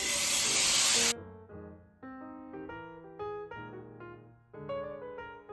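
Shrimp hitting olive oil in a hot pan gives a loud, broadband sizzle for about a second, then music with no sizzle takes over for the rest.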